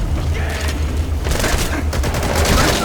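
Gunfire in the video game Metal Gear Solid V: The Phantom Pain, loud and dense bursts of shots and booms over a constant low rumble, without clear speech.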